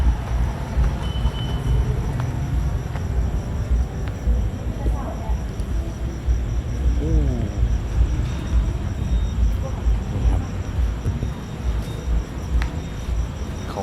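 Steady low rumble of an international passenger train idling at Udon Thani railway station, Thailand, with ambient platform noise and faint chirping insects throughout, no clear speech.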